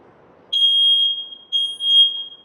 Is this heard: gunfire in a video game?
no